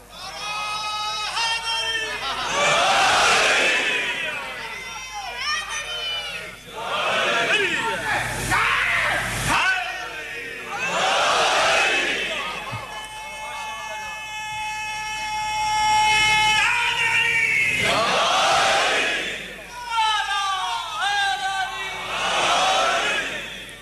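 Large majlis congregation chanting religious slogans in unison, loud, massed voices rising in repeated waves, with a voice leading between the chants.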